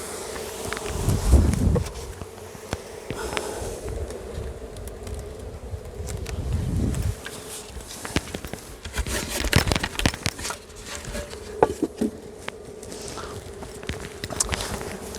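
Honeybee swarm colony at its hive during transfer to a full-size hive after a little smoke, a steady outdoor buzzing hum with louder low rumbles and handling bumps from nearby.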